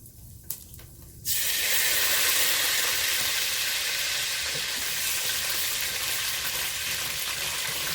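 Tomato paste dropped into hot oil left over from frying meat, for an African tomato sauce: after a few faint knocks, a loud, steady sizzle bursts in and holds close and dense to the end.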